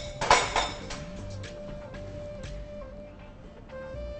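Metal utensils clink and scrape against a hot pan as a chilli-powder mixture is stirred, a sharp clatter at the start followed by lighter, scattered taps over a faint steady background hum.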